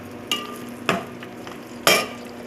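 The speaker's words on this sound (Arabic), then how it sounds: "هسه نحمس اللحم" Lamb meat fries in a pot, a low sizzle broken by three sharp scraping stirs spaced about a second apart, close and fairly loud.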